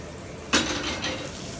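Cubes of butter hit a hot pan for plaice meunière and erupt into a bright sizzle with a clatter, then keep frying and crackling as the pan is shaken.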